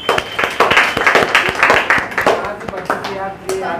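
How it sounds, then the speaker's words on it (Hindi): An audience claps for a student at an Independence Day celebration in a coaching institute, brisk rhythmic hand claps running under a speaking voice, fading toward the end. "शिवांश के लिए एक बार आप लोग तालियां बजाइए।"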